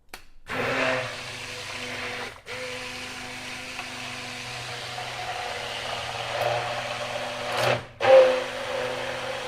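A hand blender whisks kadhi batter, whirring steadily for several seconds, stopping briefly and restarting, a continuous motor buzz close to the microphone.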